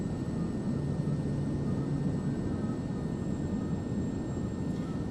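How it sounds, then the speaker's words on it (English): Wind rushing over the wings and flaps of a Kodiak airplane in Microsoft Flight Simulator during a difficult approach, a loud, steady, broadband roar with engine drone underneath. "I'm sure you can hear that wind noise flowing over the wings and hitting the flaps quite loud"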